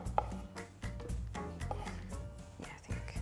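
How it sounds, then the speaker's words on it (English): Rough knife chopping of vegetables for gazpacho, a series of uneven close taps of blade on board over busy background sound with tonal hum. "And of course you just need to chop it roughly"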